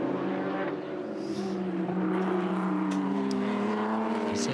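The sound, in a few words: Porsche race car driving through the Porsche Dipper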